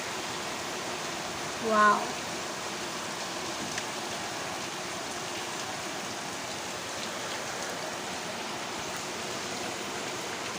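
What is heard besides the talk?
heavy rain outside the window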